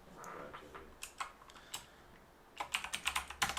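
Quiet keystrokes on a computer keyboard come in irregular bursts, a few scattered taps at first and then a faster run of clicks toward the end, close and soft.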